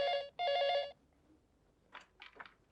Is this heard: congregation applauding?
no